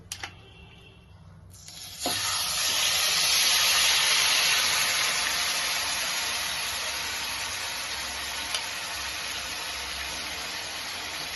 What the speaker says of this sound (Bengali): আমরা এবার চিকেনটাকে দিয়ে দিচ্ছি কড়াইতে